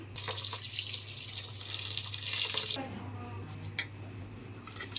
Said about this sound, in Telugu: ఇది కడిగి ముందు నానబెట్టుకుందాం అండి ఫస్ట్ కడిగేసి చూపిస్తాను